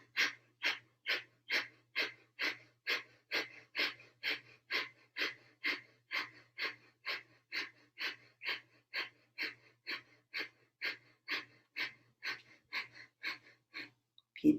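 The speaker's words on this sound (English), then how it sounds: "30 seconds of breath of fire. Inhale and exhale through the nose" Breath of fire yoga breathing: rapid, even nasal exhalations pump out roughly two per second, close and clear, about thirty sharp puffs in steady rhythm with near silence between them.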